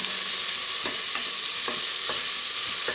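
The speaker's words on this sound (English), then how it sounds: "Then I'm gonna saute some garlic and onion together." Garlic and onion saute in hot olive oil in a pan, giving a loud, continuous sizzle with a few soft stirring scrapes and no talking.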